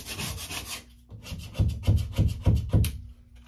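A hand scraper working sticky residue left by old wire shelving off a wall, producing about five short rhythmic rasping strokes after a brief pause, close and moderately loud, with no talking.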